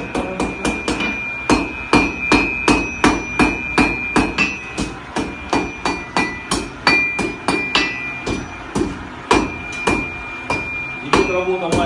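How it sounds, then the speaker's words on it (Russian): A blacksmith at a forge near Minsk shapes a horseshoe with a small hammer, the ringing metal strikes coming in a steady, fairly quick rhythm of roughly two dozen close, loud blows with no talk. "Идет работа маленьким молотом. Делается форма подковы."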